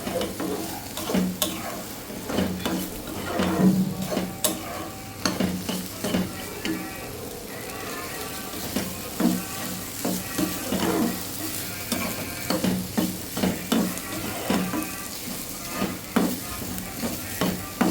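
Raw prawns with tender tamarind leaves frying in a pan, cooked old-style, with a continuous close sizzle and frequent rhythmic scraping and clinking of a spatula stirring throughout, no voices.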